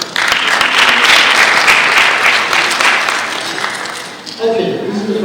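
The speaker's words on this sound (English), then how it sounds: "all I'm requesting a little applause for them if you could do so" Audience applause at the Stars of the Industry Awards 2024 ceremony, dense sustained clapping from a large crowd that fades out near the end as a voice begins speaking.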